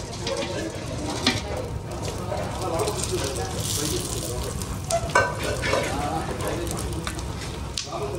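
Whole spices, star anise, nutmeg, mace, cardamom, cloves, cinnamon, stone flower and bay leaf, hit hot oil for a Telugu dish, a steady loud sizzle with stirring scrapes and a few sharper pops throughout.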